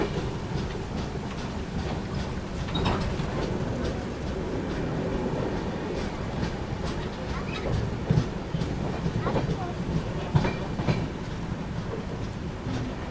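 Farakka Express passenger train rolling along the rails near a small station before Ayodhya Cantt, a steady broadband rumble with faint clicks and clatter throughout, and a voice talking briefly over it.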